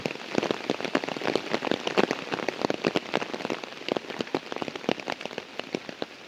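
Rain patters densely and close on surfaces outdoors while goats are grazing, with many sharp individual drops over a steady wash. It is loud and continuous, and no voices are heard.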